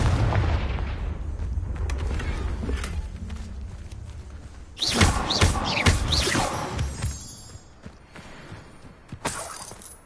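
Confringo blasting curse explosions in Hogwarts Legacy, in two loud, shattering bursts with debris-like crackle: a big blast in the middle and a shorter one near the end, over a rumbling game background.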